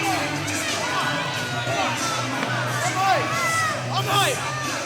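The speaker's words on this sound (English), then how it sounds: "Anthony Vincent with some crowd support here" A small crowd of family and friends at a free local wrestling event cheers and shouts for a young wrestler during a triple threat match, with whoops and yells over steady crowd murmur.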